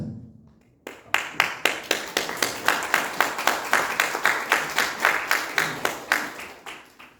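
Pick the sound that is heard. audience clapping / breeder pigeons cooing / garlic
audience clapping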